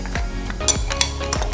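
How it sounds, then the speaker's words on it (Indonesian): A utensil stirring a mochi mixture of water, salt and oil in a pot, with repeated scraping strokes and light metallic clinks against the pot, close and steady, no talk. "Kita aduk-aduk lagi sampai semua larut dan juga tercampur secara merata."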